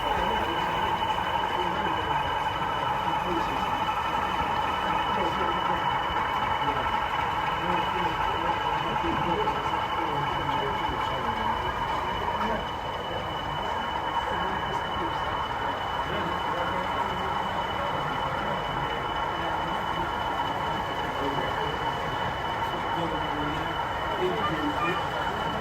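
Several DCC-controlled model railway locomotives fitted with sound run on a 7mm scale O-gauge layout at a model railway exhibition, giving a steady, continuous rumble and hum under a busy crowd murmur, with a faint background voice throughout.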